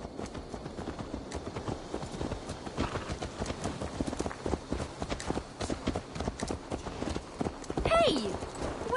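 Horse hooves clip-clop in a steady trotting rhythm in the video game Assassin's Creed Valhalla, moderately loud over game ambience, with a brief whinny near the end and speech also present.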